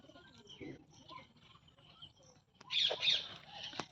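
Pigeons coo softly near a home loft as the flock finishes feeding and heads back to the nests, with faint chirps and a louder burst of calls toward the end.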